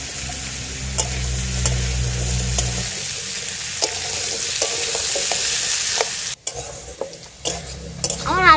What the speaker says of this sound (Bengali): 10 মিনিট আলুটা ভেজে নেবো।